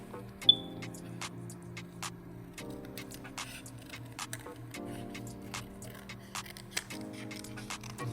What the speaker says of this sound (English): And now we could cut out each shape.